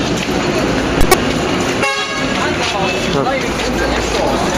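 Car horns honk amid city traffic on the way into Honghe, China: a few short toots up close, then a longer horn blast over the continuous traffic noise.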